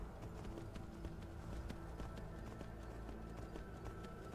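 Horse hooves clip-clop at a steady trotting rhythm in the video game Skyrim, faint and even over a low ambient backdrop, with no speech.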